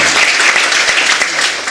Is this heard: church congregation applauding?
yes